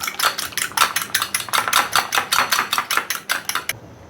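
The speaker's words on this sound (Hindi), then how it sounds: "अब अंडा अच्छे तरीके से फेंट लें।" An egg seasoned with salt and ground black pepper is beaten briskly with a utensil in a bowl, giving a steady run of quick, evenly spaced clinking taps up close that stop abruptly near the end, with no voices.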